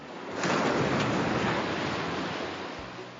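A sea wave surges and splashes onto a sandy shore, a broad rushing wash that swells quickly, holds, then slowly fades with foamy hiss and no voices.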